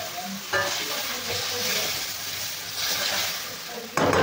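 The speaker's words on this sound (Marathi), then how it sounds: "ह्याला आपल्याला परतून घ्यायचंय" Masala-coated stalks being sautéed and stirred in a pan: continuous close sizzling with scraping stir strokes and a sharp clatter near the end.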